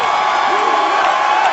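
A UFC arena crowd roars in a dense, steady wash of cheering and whooping, loud and continuous, with a commentator's voice faintly over it.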